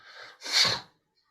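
A voice imitates a dragon snorting smoke from its nose: a soft breathy hiss, then one louder, forceful nasal snort burst, close up and alone, followed by silence.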